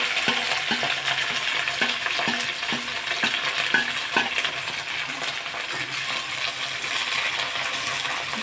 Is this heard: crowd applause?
no